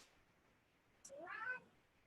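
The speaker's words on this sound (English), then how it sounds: "I have a very vocal cat." A single drawn-out cat meow, faint and nearby, rises briefly out of a quiet room before fading back to near silence.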